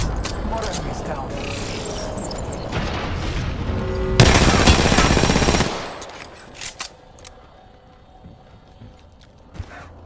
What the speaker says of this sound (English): They spotted me. I'm taking shots.